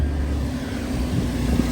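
A high-mileage twin-turbo Nissan G35 idles at a steady low rumble nearby, a faint, even drone with no people talking.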